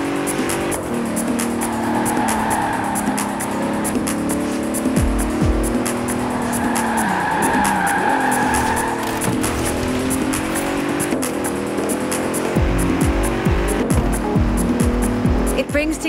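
A 2017 Bentley Continental Supersport in Forza Horizon 4 drives with a steady, loud engine drone and shifting pitch, tires squealing at moments, while music or voices sit in the mix throughout.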